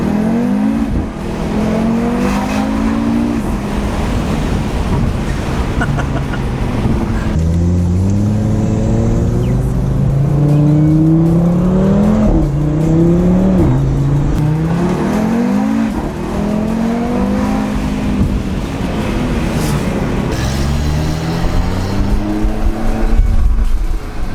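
A 2019 Audi RS3 single-turbo five-cylinder engine revs hard and repeatedly, pitch climbing and falling through gears, loud and close with a steady turbo-like roar and no talking.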